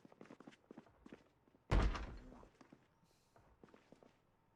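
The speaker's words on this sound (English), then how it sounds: "It sounds like a zombie banging on a door" A sudden heavy bang, like a zombie striking a door, in Project Zomboid, one loud thud with a short decaying rumble, set among quieter scattered footsteps and soft knocks.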